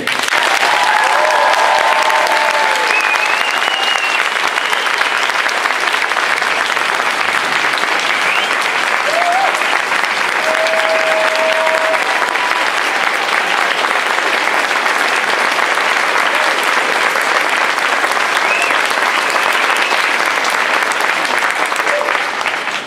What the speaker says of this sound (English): You're getting tired of people clapping for you here?